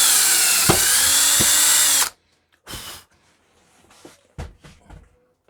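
A worn-out power drill that is close to failing whines loudly and steadily for about two seconds, then stops abruptly, followed by a few short bursts and knocks from a workshop building a hand-powered cabbing machine.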